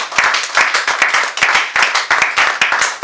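A congregation at an evangelical church claps loudly in a steady, rhythmic unison beat, the claps repeating in quick regular pulses.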